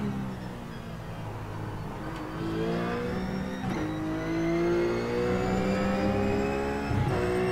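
A race car engine in a racing video game holds a steady, high whir and then climbs through several rising revs with gear changes, loud and continuous with no voices.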